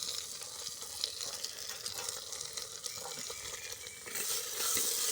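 Tomato and onion fry and get stirred in a pot, giving a steady soft sizzle with scraping stir strokes throughout that grow a little louder near the end.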